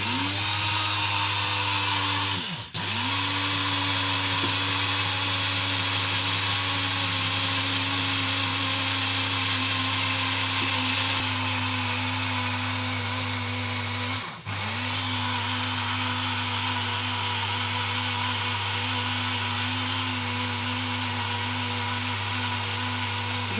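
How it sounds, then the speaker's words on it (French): An electric blender grinds sugar into fine powdered sugar, a loud steady motor whine running nonstop with two brief dips where the blades slow, then spin back up. "on va bien mixer le tout jusqu'à obtention de quelque chose d'assez fin"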